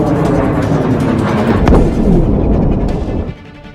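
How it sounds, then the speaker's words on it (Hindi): Missiles exploding in residential areas of Kafr Qasim during an Iranian attack on Israel produce a loud, continuous rumbling roar with a sharper blast midway, then fade toward the end. "ईरान धमाके कर रहा है, मिसाइलें रिहायशी बस्तियों में फट रही हैं"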